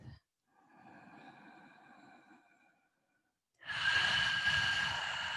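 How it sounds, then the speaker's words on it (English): During a mat Pilates session, a long breath is exhaled audibly out through the mouth. A short pause follows, then a louder, breathier rush of air, both close and clear with no talking. "Exhale out the mouth."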